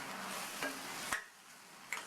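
Sautéed tomatoes with a handful of mint leaves are stirred in a pan, giving a faint low sizzle broken by a few soft spoon scrapes.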